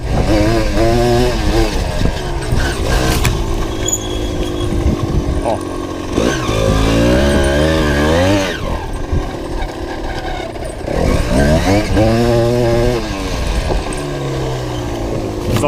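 A loud Yamaha DT 125R enduro dirt bike engine revs hard and rises in pitch as it climbs a steep hill, easing off and surging again several times, close by throughout.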